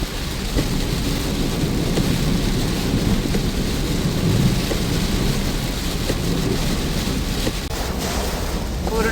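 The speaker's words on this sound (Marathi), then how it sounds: "पूर्ण जर्नी असा मस्त तुफान पाऊस पडतोय" Heavy monsoon rain drumming on a moving car during a road journey toward Goa, a dense steady roar with wind buffeting and occasional deep rumbles, loud and continuous with no voices.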